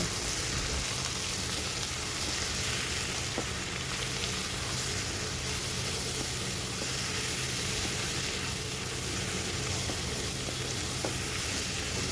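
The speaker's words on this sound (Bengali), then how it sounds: "এবার মশলাটা খুব ভালো করে ভাজা ভাজা করে নেব" Spice paste with turmeric and sugar frying in a pan, a dense, even, continuous sizzle and crackle close up, with a faint occasional scrape, no voices.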